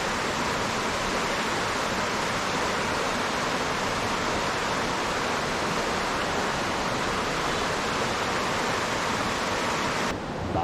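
Steady, broadband rushing of a flowing creek in North Carolina, constant and close, with no voices or breaks throughout.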